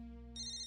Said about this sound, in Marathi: फोन वाजतोय माझा.